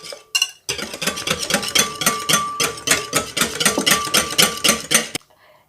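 Brioche dough being mixed with yeast dissolved in milk, a steady run of rapid clattering scrapes and knocks from utensil against bowl, close and busy for about five seconds before stopping.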